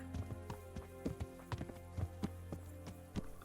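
Horse hooves in Kingdom Come: Deliverance, a steady clip-clop of a horse moving along at an easy pace, regular clear hoof strikes close by over a constant low background hum.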